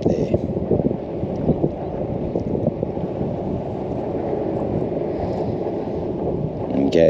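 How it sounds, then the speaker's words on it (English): Wind gusts over a Hobie Lynx kayak on the water near Captain Cook Bridge during bream fishing. The blowing is steady and rumbly, buffeting the microphone close up, with a slight lap of water beneath it. "The wind's blown me a fair way off course here"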